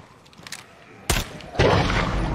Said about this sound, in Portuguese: Dei um tiro pra ver se a gente atrai, né?